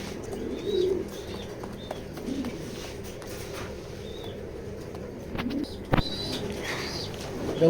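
Pigeons coo softly in a loft, with low repeated coos and scattered chirps against quiet background noise, plus a brief sharp knock near the end.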